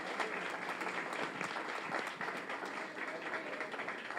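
Sustained loud applause from a graduation ceremony audience for nursing practitioner graduates, dense continuous clapping filling the room without pause.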